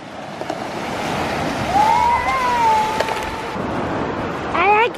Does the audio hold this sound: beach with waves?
yes